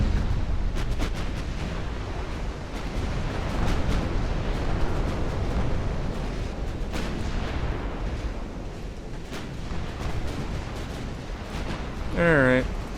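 Naval guns firing in the Ultimate Admirals: Dreadnoughts game, a sustained rumble of heavy cannon booms with several sharper blasts scattered through it, and someone speaking over the battle.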